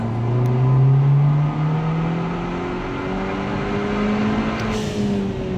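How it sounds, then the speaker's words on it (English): A BMW 1 Series engine fitted with a metal boost pipe and charge pipe hums and revs nearby, its pitch climbing and settling in smooth steady sweeps with no talking. "it seems like I can hear the engine a little bit more"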